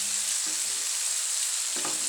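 Anchovies frying in a pan, a steady close sizzle and crackle of hot oil with brief stirring scrapes near the start and end, no voices.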